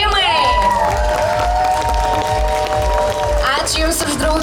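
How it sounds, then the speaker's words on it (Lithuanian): An audience at a public festival event in Palanga, Lithuania, breaks into loud, sustained applause and cheering that rises over tonal voices and crowd noise. "Plojimai!"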